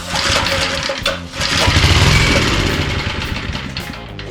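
A gas lawn edger engine is pull-started with the choke on, its starter cord rasping in quick repeated strokes before the small engine sputters and catches into a loud, buzzing run close to the listener.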